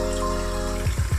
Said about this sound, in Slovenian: Jajca položimo v posodo in dolijemo hladno vodo tako, da so jajca v celoti pokrita.